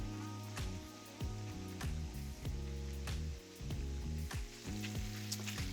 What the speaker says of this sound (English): Just listen to the sound of the bacon.